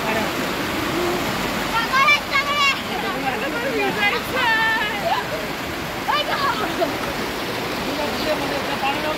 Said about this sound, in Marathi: मस्त अशी नदी वाहते